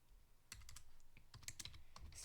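Keys clack on a computer keyboard in quick, uneven bursts of sharp taps, close and quiet, with no talking.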